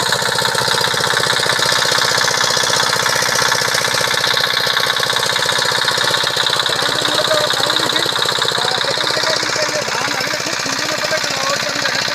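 A shallow-pump engine drives a paddy threshing machine on a Bangladeshi farm, giving a loud, steady, unbroken mechanical roar with dense rattling and chugging throughout, no speech over it.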